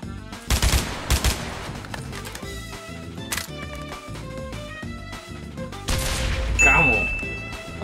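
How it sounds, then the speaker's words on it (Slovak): Rapid gunfire from a Counter-Strike 2 match played in Minecraft comes as sharp bursts of shots, close and loud, mixed with other game effects and a rising tone near the end, while players talk over it. "A to čím si strieľal tak rýchlo?"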